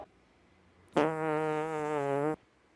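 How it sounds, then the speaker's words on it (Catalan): A loud, buzzy fart sound effect for a comedy sketch: one sustained, rasping blast lasting over a second that cuts off sharply, heard alone in a quiet room. "ha sigut un pet tan bèstia que podria reactivar els volcans apagats de la Garrotxa"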